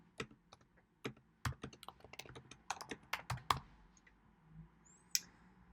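Typing on a computer keyboard while entering text in Adobe InDesign: sharp, irregular key clicks in quick bursts, fairly close and quiet, tapering to a few scattered taps and a final click.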